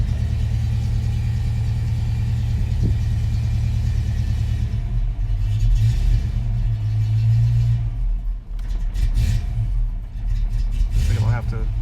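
A Foxbody Mustang V8 with a newly installed Holley Terminator X runs at a steady, loud idle, its low rumble continuous and close throughout, with voices talking over it.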